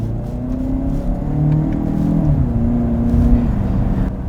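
A 2019 Lincoln Nautilus in sport mode accelerates, its engine a steady droning rise heard from inside the cabin, loud and continuous with faint road rumble and no talking.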